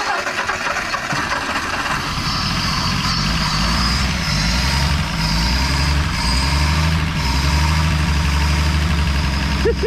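A 1959 Edsel Ranger engine, with a carburetor problem, cranks and runs roughly with a loud uneven rumble, while people talk nearby.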